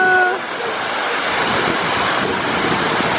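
Tumalog Falls waterfall in Oslob roars as a loud, dense, unbroken rush of falling water, with a voice heard only at the very start.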